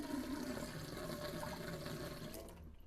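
Water runs steadily through a newly installed Frizzlife SW10F RV drinking water filter, a close, continuous rushing flow that eases slightly near the end.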